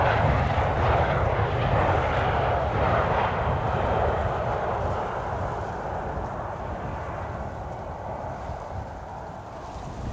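Airliner landing at Amsterdam Schiphol Airport, a loud, broad jet engine roar close by that holds steady and then slowly fades as the aircraft passes, with no voices.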